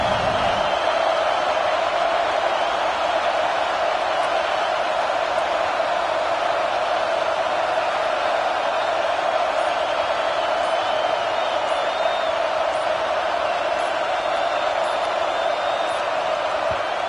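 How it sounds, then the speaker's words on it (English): A stadium crowd in the video game College Football 26, Washington against Alabama, a steady loud roar that holds constant throughout. "this defense feeling energy from the crowd"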